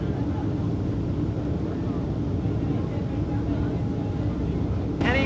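A continuous low engine drone of a large cruise ship tender boat fills the clip near Cairns, Australia, steady and loud, with water noise and a sudden brighter burst at the end.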